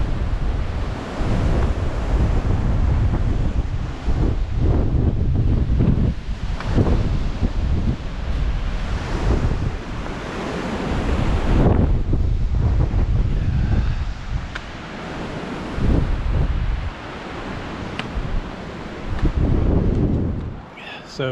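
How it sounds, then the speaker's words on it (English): Strong, gusting wind on a mountain cliff top along the Appalachian Trail at Tinker Cliffs, roaring loudly into the microphone in sustained buffets, with speech faintly mixed in at times. "This wind is just too brutal up here."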